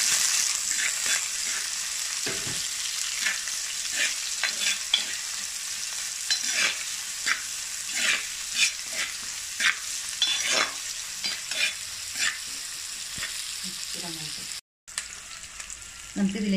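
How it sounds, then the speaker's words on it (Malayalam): Onion frying and being stirred in hot coconut oil for a Kerala mullet fish curry, with a steady close sizzle and repeated scraping stirs throughout and a brief cut near the end. "വെളിച്ചെണ്ണ നന്നായിട്ട് ചൂടായിട്ടുണ്ട്, അതിലേക്ക് നമുക്ക് താളിക്കാൻ അല്പം ഉള്ളി എടുത്തു വെച്ചതിന് ശേഷം ഉള്ളി ചേർത്ത് കൊടുക്കുക."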